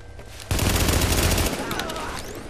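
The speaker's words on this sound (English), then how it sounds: "Stop shooting at me!" Gunfire in The Division's Dark Zone: a dense burst of rapid shots starts sharply and rattles loudly for about a second, then fades into lighter scattered firing and noisy combat ambience.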